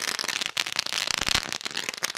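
Firecrackers and fireworks going off at a local over-40 cricket tournament match, a loud, dense, continuous crackling barrage of rapid pops throughout.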